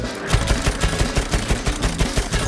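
Automatic gunfire from a weapon in Battlefield 1 rattles in a steady rhythm of about a dozen close, punchy shots, loud and unbroken by talk.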